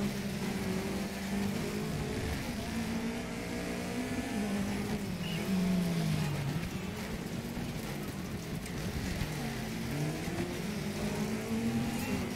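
A rally car engine in Dirt 3 drones steadily throughout, its pitch rising and falling with gear changes, a constant mid-level hum with road noise and no talk over it.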